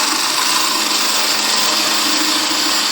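A skew chisel cuts wood on a spinning lathe, giving a loud, steady, dense whirring hiss throughout.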